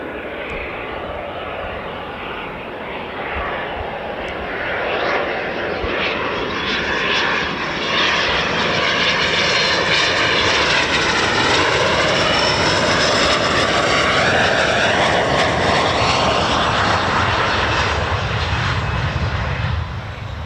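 A USAF 48th Fighter Wing F-15E Strike Eagle or F-35A fighter jet landing at an RAF base, its loud, sustained engine roar rising and sweeping as it passes close, steady throughout.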